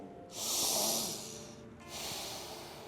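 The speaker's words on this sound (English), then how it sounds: "Take another 2 breaths here." Slow, deep breaths during a standing yoga recovery session: a long, airy inhale or exhale swells then fades, followed by a second softer breath, close and hissy with no speech.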